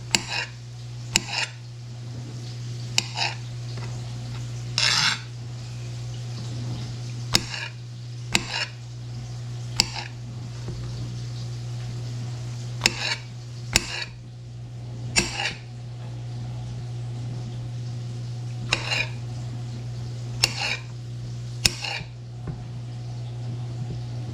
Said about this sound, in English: now we're going to take our mushrooms, slice them up